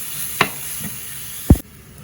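Carrot varai stirred in a pan over high heat, a soft sizzle under two quick scraping knocks of the spoon, the second louder, before the sound cuts away.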